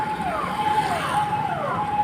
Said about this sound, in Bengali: এই হচ্ছে পুলিশের গাড়ি